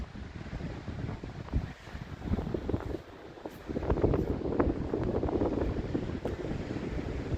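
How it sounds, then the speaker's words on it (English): Strong wind roars outdoors, buffeting the microphone in steady gusts that swell louder about halfway through and keep rumbling to the end. "It's windy as fuck."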